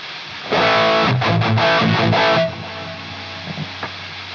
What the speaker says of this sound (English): that's just regular hiss that you get in anything